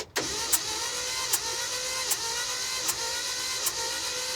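A car engine on an old Ford Ranger cranks over on the starter during a compression test, a steady whirring drone with five evenly spaced compression pulses, close and loud, with no voices.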